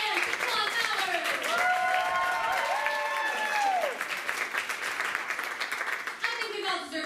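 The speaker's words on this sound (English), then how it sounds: "Let's give a hearty round of applause to our two contenders, Dick Tompkins and Daquan Bowers" Live audience at a theatrical show applauding two contenders, a steady round of clapping that swells and continues, with a voice speaking over it and background music lines partway through before the applause thins.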